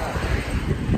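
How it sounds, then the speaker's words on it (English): Steady wind buffets the microphone with a low rumbling roar in Texas, loud and continuous throughout the brief moment. "Man, it's windy today."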